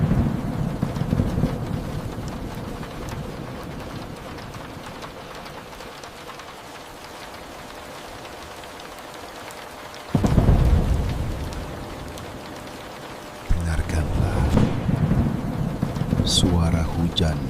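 Heavy rain falls steadily with rolling thunder, and a loud rumbling swell arrives in the middle before the downpour picks up again and carries on.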